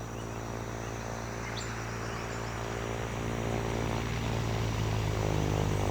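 A small propeller plane drones steadily as it comes down onto a bush airstrip at a ranger station on the Costa Rican coast beside Corcovado park, its hum gradually growing louder over a faint insect backdrop.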